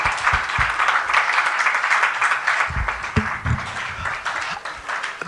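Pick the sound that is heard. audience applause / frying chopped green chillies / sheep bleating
audience applause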